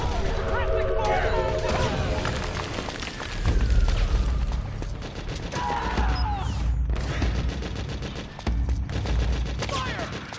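Gunfire in the Metal Gear video game, with bursts of automatic fire, booms and crashing impacts layered under music and shouted voices in a dense, loud battle scene.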